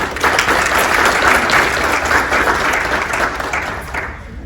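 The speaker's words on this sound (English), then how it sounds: "Hey, a round of applause, round of applause." An audience gives a round of applause, dense and loud clapping that continues steadily and fades slightly at the end, with no talk over it.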